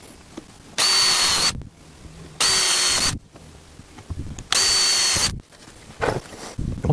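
Power drill driving screws into wood in a home workshop: three loud close bursts of whirring, each about a second long with pauses between, then a shorter fourth whir, with small clunks and handling noise in the gaps.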